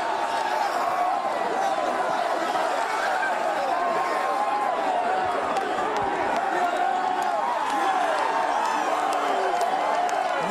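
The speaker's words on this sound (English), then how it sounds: "And the sellout crowd is stunned." A sellout college football stadium crowd, Michigan State, roaring in a dense, sustained wall of murmur, chatter and scattered cheers after a touchdown, steady and loud from start to end.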